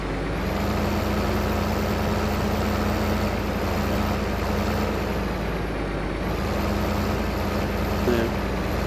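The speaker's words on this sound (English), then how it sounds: "The 454 that's in my truck." A truck with a 454 engine idles in a steady, loud, broadband rumble with a low hum that holds without a break for about nine seconds.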